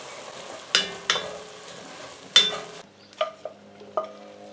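Ground beef for a ragu sauce cooking in a pan, a soft steady sizzle with several sharp scraping stirs of a utensil in the pan, close and clear, no voices.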